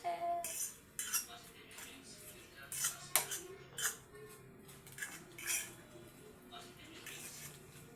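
Burnt rice crust is scraped off the bottom of a pot with a metal utensil in short, uneven rasping strokes and clinks, fairly close, separated by quiet pauses.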